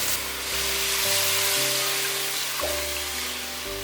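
Water poured into a hot pan of frying seasonings with sugar and soy sauce, giving a steady close hiss and sizzle throughout while vegan stuffed fried tofu is cooked.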